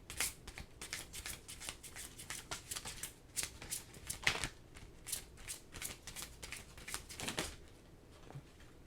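Tarot cards being shuffled close up, a quiet, continuous run of rapid riffling and flicking bursts with no speech.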